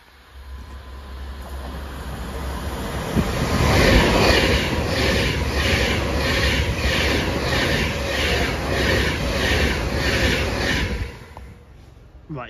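A train passes through Marston Green station on the Birmingham branch of the West Coast Main Line. A low rumble swells into a loud, steady clickety-clack of wheels over rail joints, holds for several seconds, then fades quickly near the end.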